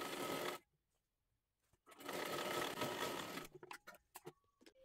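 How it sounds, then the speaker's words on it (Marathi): A sewing machine stitches the seam of a kathpadar saree in two sustained runs separated by a pause, then gives a few short, quick bursts as the stitching stops and starts. "इथे आपण पूर्ण शिलाई मारून घेतली"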